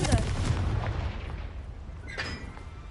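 A Confringo explosion spell goes off in Hogwarts Legacy with a booming blast at the start that fades out, and a softer crackle follows about two seconds later.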